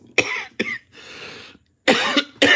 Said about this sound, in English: Sorry, I had the urge to cough in the middle of that sentence.